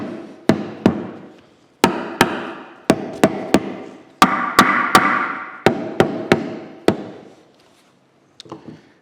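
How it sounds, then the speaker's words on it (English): A small dead blow hammer strikes a wooden drum pattern in a series of sharp, close taps, some in quick pairs and some spaced apart, each with a brief ringing decay, ending with a couple of faint knocks. "take this little dead blow hammer"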